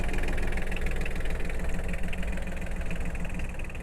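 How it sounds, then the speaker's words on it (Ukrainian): A Yanmar AF17 small tractor engine idles close by with an even, rapid chugging rhythm and a steady rattle throughout. "по роботі двигуна ви бачите і чуєте, що робота двигуна дуже рівна"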